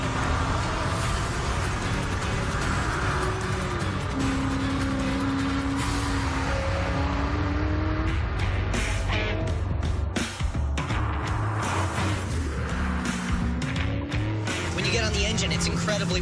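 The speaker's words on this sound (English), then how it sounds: "Now you can hear those superchargers cranking." A supercharged car engine whines while driving, a constant loud drone with rising and falling tonal pitch sweeps as the car accelerates, heard from close by while someone talks over it.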